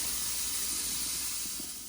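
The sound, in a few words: rinsing AIRAID air filter pre-filter with water spray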